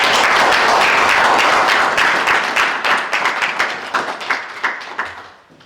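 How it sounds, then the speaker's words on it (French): An audience at a political meeting in Paris claps, loud and dense at first, then thinning into scattered individual claps that fade out by the end. "pour prendre son mot sous vos applaudissements"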